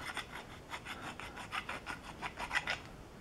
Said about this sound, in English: we're going to take a square tip file or a square file and just kind of go in and just mangle up these surfaces